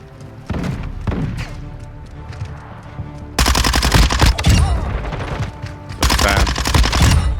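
Rapid gunfire from the video game Call of Duty Modern Warfare 2, dense bursts of close, loud shots and crossfire that cut in sharply after a quieter opening and return in heavy volleys near the end.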